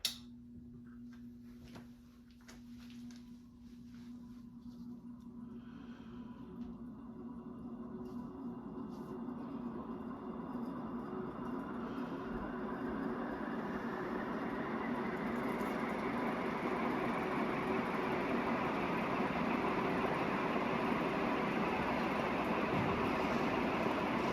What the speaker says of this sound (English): The bearings are so obnoxious on the fan.